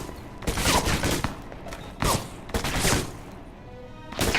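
Shotgun blasts and gunfire in the video game Alpha Protocol, several heavy booming shots in separate bursts with short gaps between them, loud and close.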